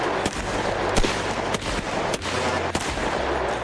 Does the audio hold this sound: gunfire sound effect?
yes